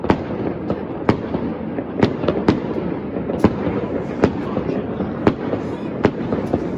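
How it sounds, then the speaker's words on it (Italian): New Year's fireworks over Catania pop and crack in sharp bursts at irregular intervals, several loud bangs standing out over a constant crackling wash, with people talking nearby. "Questi sono fuochi veri."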